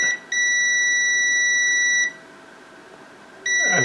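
A multimeter runs a continuity test on a water-damaged Nintendo Switch Lite board. It gives a steady, piercing electronic beep that holds for nearly two seconds, stops, then sounds again briefly at the end. The tone is close and clear and no one talks over it.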